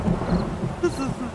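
Rain pours and thunder rumbles through a stormy 7 Days to Die gameplay scene, a steady, loud wash of downpour with a low rolling boom partway through.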